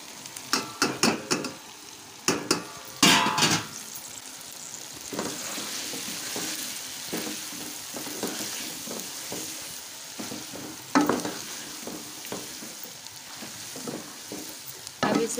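Fried okra is stirred and cooked in masala in a pan with a soft, steady sizzle under repeated scraping and tapping strokes from a spoon, busiest at the start.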